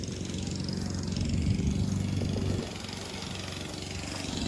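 A lawn mower cuts a large, weedy St. Augustine grass lawn, its engine droning steadily at moderate distance with no talk.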